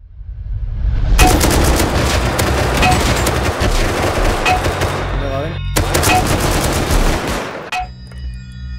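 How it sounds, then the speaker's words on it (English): Explosive-round gunfire in the survival game Rust: dense bursts of rapid automatic shots crackle loudly in two long volleys separated by a brief pause, with a few isolated shots after, and no voices. "Oh, explosive bullets!"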